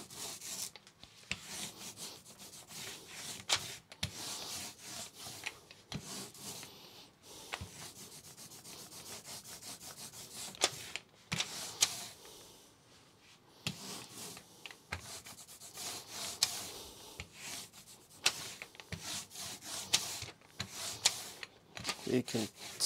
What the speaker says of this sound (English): you can tell by the sound when it's ready, of the ink rolling over it.